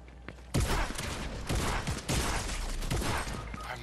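Fortnite gunfire crackles in several sharp bursts, loud, close bursts of rapid shots with brief gaps between volleys.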